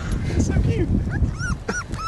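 A six-week-old puppy whimpers and yips in short, high-pitched cries while people talk nearby.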